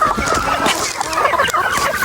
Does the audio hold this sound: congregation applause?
no